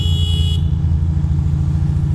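Cars drive through rainy traffic in Queens on wet roads, a heavy, steady low engine rumble close by, with a brief horn-like tone in the opening half second.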